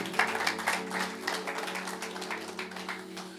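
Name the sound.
church congregation applause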